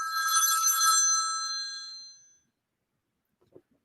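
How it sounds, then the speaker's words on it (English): A phone rings loudly with a bright, trilling bell for about two seconds and then stops, leaving near silence broken by a faint brief sound. "Oh, the God phone."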